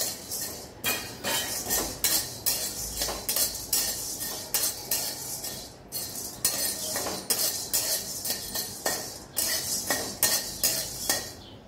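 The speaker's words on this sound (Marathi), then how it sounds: "तर मिरी भाजून घेते." Black peppercorns dry-roasting in a pan for Maharashtrian ghati masala, a steady run of rattling clinks and metallic scrapes as the spice is stirred, fairly close and moderately quiet, with no voices.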